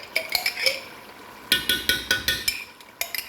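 Spoon scraping and clinking in a pot while stuffed cabbage filling is mixed, a run of sharp metallic taps in irregular bursts, close and moderately loud with no talking.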